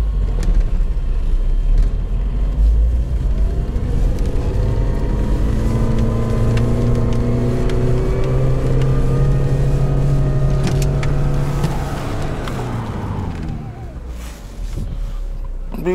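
A Lada Niva 4x4 pulls away with a steady, rising engine drone that climbs through the gears, close and continuous, before it eases off near the end.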